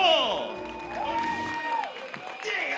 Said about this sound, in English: Ladies and gentlemen, a round of applause for the problem child, Jake Paul.